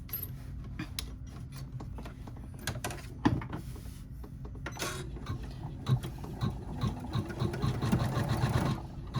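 Embroidery machine tacking down a placement line for a clutch: a steady mechanical whir with rapid needle ticking and scattered clicks and knocks, close and moderately loud throughout.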